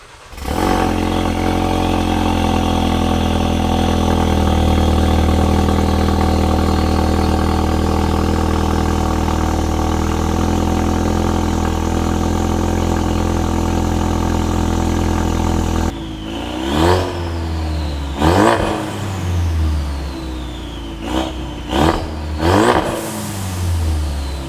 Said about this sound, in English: I will give you guys a cold start and I'll show you what this new downpipe sounds like